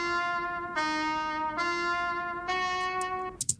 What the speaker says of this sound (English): A little trumpet thing, horn thing that just sounds like this.